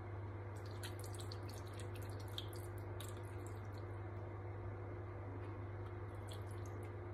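Water trickles and drips quietly into a roasting dish holding a leg of lamb, potatoes and white wine in a home kitchen, a faint steady splashing over low background hum.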